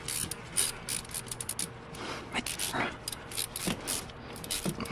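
A ratchet wrench clicks in quick uneven bursts while torquing a fastener on a Porsche 911 during a DIY upgrade, close-up and metallic, with no talking.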